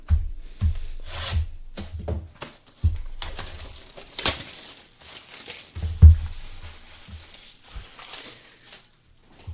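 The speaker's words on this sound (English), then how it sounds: "let's start ripping some packs" Topps Series 1 hobby trading card packs are torn open and foil wrappers crinkle up close, with bursts of ripping and rustling that come in uneven clusters.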